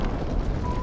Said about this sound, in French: Oh, l'explosion.